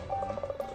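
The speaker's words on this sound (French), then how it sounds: "Ah, téléphone, je crois entendre." A rapid series of short telephone keypad dialing tones, evenly spaced and fairly quiet, with no voices over them.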